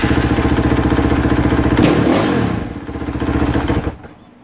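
A KTM 450SXF motorcycle engine idles loudly and close with a fast, even thumping pulse, briefly surging and clattering before settling back and cutting out near the end.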